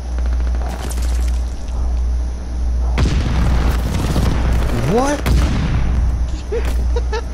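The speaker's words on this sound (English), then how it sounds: "Allied airstrike coming in hot." Allied airstrike explosions in a shooter video game: deep booms hit hard around the three- and five-second marks, trailing rumble and crackle, with heavy gameplay noise and occasional whistling tones throughout.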